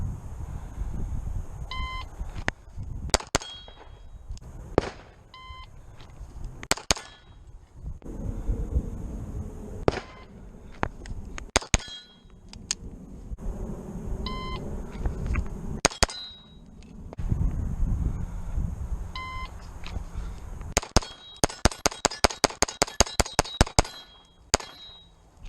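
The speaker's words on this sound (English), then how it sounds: "I'm just going to shoot at steel for a bit more." CZ P-01 pistol, drawn from an inside-the-waistband holster, fires at steel targets on a muddy outdoor range: sharp loud gunshots come singly and in quick bursts, with bright metallic pings from the struck steel and faint beeping tones between strings.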